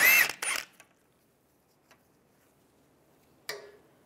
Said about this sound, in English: Take that off first using a 17mm socket.